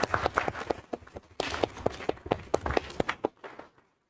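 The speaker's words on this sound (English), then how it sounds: "Give a round of applause for Caleb." Sparse applause from a small audience at a council meeting: a few people clapping in quick irregular claps that swell briefly and then thin out and stop, fairly close and moderately loud.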